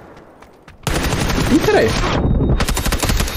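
Rapid automatic gunfire from an MG3 light machine gun in PUBG on the Vikendi map bursts in loud and dense after a quiet start and runs almost continuously, with someone speaking briefly over it.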